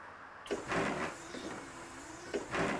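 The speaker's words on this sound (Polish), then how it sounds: "tak to tutaj wygląda udźwiękowienie drzwi" An Ikarus 260 bus door in the OMSI bus simulator game operates with a pneumatic hiss and thud, followed by a steady mechanical whir and a second hiss near the end, moderately loud and with no talking.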